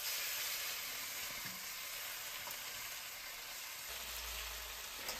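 Chicken pieces fry in a hot wok for crispy noodles, a loud dense crackling sizzle that holds steady and close throughout with no talk.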